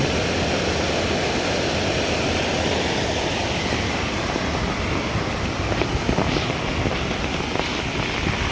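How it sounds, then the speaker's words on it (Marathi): A river swollen by heavy rain rushes in a dense, steady roar of water that fills the scene without pause, loud and unbroken throughout. "तुम्हाला नदी दाखवतो किती पाणी आलंय"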